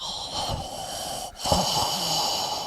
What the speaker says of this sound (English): You're just breathing a little loud.